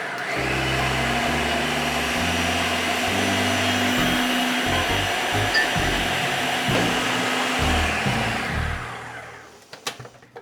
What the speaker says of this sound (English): we're gonna put it into the food processor, and that's what's gonna give you your creamy consistency